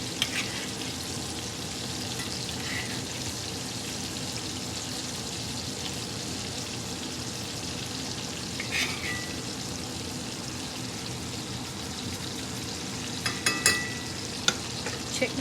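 A ribeye sears in a cast iron skillet while being basted with garlic butter, a long steady sizzle with intermittent spoon-scraping and splashing crackles that grow sharper near the end, no voices.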